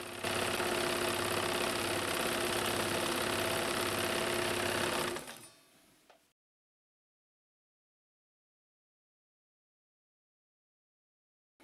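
A vintage Necchi Supernova Automatica sewing machine stitches a pattern, automatically feeding the fabric backward and forward. A steady, close, rhythmic whirring hum runs for about five seconds and then stops, leaving silence. No one speaks.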